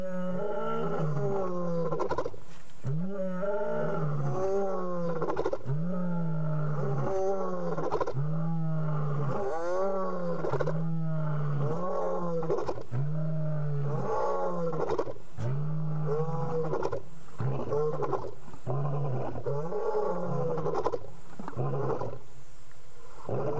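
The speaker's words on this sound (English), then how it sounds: "Another roar, isn't that incredible" Lion roars on a pitch-black night safari: a long, rhythmic series of deep grunting roars, loud and close, repeating steadily with no talk over them.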